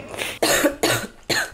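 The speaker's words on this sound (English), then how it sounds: "I'm literally coughing so hard I'm crying." A woman coughs hard in a rapid series of four harsh, close bursts, each one sharp and raspy, with no talking.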